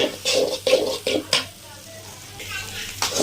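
Masala for pasta sautéed on high heat, bursts of stirring and scraping with sizzle in quick succession at first, then a quieter simmering lull before another stir at the end.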